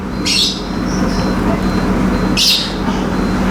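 Two short bursts of a female lovebird chirping, about two seconds apart, over steady low traffic rumble and faint background voices.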